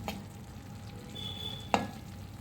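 Ivy gourd poriyal with masala cooking in a pan over low heat, giving a soft continuous sizzle, a faint tone held in the background and one sharp clink of a utensil near the end.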